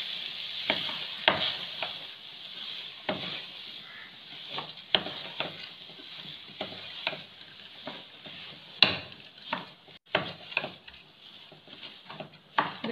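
Masala and rice being stirred together in a pot for a pressure-cooker kushka biryani, with a steady scraping, rustling stir and repeated soft knocks of the spoon, close and fairly quiet, no talking.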